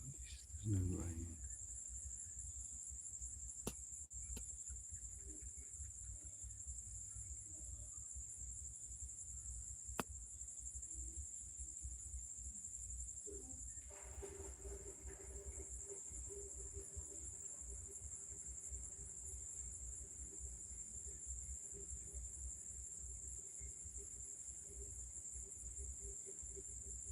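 A steady, high-pitched trilling of insects at night persists unbroken throughout, faint and far off, over a quiet low background murmur.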